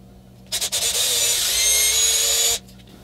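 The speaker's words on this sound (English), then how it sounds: "I'm drilling some pilot holes" A power drill bores pilot holes for a homemade spot welding pen for an 18650 battery pack welder, a few quick bursts followed by a steady two-second grinding whir, close and loud, then stopping.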